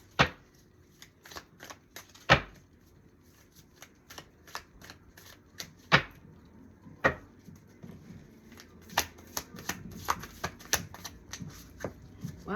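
Tarot cards being shuffled close up, with a run of crisp riffling flicks and sharp slaps coming in irregular bursts, loudest near the start and middle, with faint background between.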